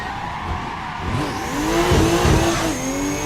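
A Downsyde Garage Nissan S15 drift car in Assetto Corsa revs hard, its engine note climbing and falling while the tires squeal and skid through a flicked fourth-gear entry, loud and close.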